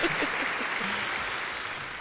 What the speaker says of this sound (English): a round of applause. Yes. Keep it going.